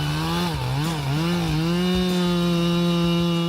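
A big chainsaw cuts through a tree, its engine holding a loud, steady buzzing whine close up with slight dips in pitch as the blade bites into the wood, running continuously throughout.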